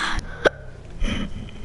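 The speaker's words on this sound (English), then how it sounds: "hiccups" A single sharp hiccup sounds close and brief, followed by a quieter breathy throat noise.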